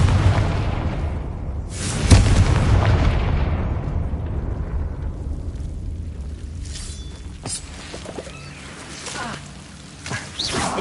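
A Confringo explosive spell in Hogwarts Legacy goes off as a loud booming blast, followed by a long rumbling decay with smaller pops and crackles.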